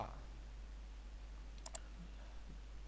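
Two quick computer mouse clicks close together, crisp and faint, over a quiet steady room hum while working in Visual Web Developer.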